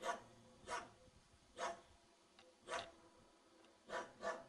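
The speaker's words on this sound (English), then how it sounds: "a little dog that just keeps barking and barking" A little dog, tied up in a small town along the Camino de Santiago, barks in sharp single yaps every second or so, at moderate distance over faint outdoor background.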